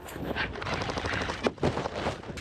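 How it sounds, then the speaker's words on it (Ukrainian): Airsoft guns fire in dense, rapid bursts during a border guard brigade's combat training exercise, a continuous crackling barrage with a few sharper, louder reports standing out near the end. "використання страйкбольної зброї дозволяє моделювати реальний бій без загрози для здоров'я бійців"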